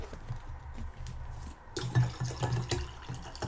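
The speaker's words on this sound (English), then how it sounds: "Just pour right beside the microphone." Sunny D drink being poured right beside a microphone: a quiet lead-in, then a close, gurgling liquid splash that starts abruptly and runs to the end.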